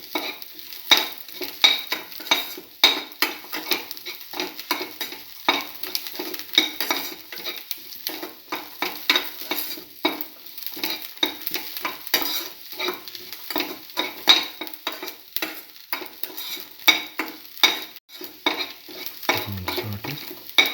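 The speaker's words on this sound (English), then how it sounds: "saute again, thoroughly with the rest of the mixture" A beef liver mixture with parsley and cinnamon is sautéed in a pan. A spatula scrapes and taps the pan in quick, irregular strokes over a soft sizzle, and the clatter stays close and busy throughout.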